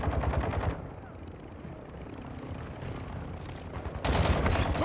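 Gunfire from Call of Duty: Modern Warfare II comes in two loud bursts of rapid automatic fire with a stretch of battlefield rumble and distant noise between them. No one speaks.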